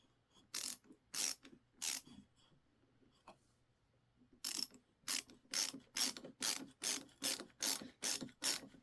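A Milwaukee ratcheting screwdriver drives a screw into wood with no pilot hole, giving three sharp ratchet bursts, a pause, then a steady run of about nine rhythmic clicking strokes, close and fairly loud with no talk.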